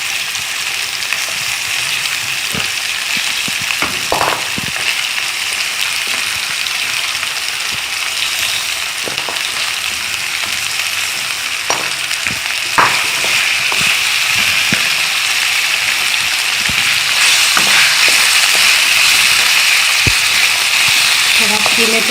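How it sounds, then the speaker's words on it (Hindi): Minced keema frying with onions in a pan for Gujarati biryani, a steady broadband sizzle with scattered crackles and scrapes running throughout, fairly loud and close with no voices. "थोड़ा कीमे को ज़रा अच्छी तरह से पहले इसमें प्याज में आप भून लीजिए"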